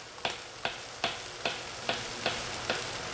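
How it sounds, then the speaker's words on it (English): Knife chopping baby portobello mushrooms on a cutting board, seven evenly spaced crisp thuds about every half second, close and fairly quiet with no talk. "Okay, I'm just chopping these up."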